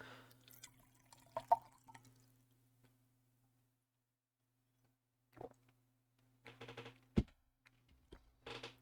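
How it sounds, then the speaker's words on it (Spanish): A person drinks water during a spoken talk, with a few quiet, close sips and gulps spread across an otherwise near-silent stretch and no talking. "permiso que voy a tomar agua"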